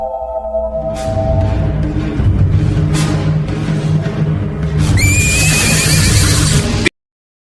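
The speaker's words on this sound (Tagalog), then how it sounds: "Ililigtas ko ang mga kabayo!" Horses neigh and whinny loudly in a Filipino radio horror drama, several overlapping cries over a dense music-and-effects bed, with a bright, high-pitched whinny rising near the end.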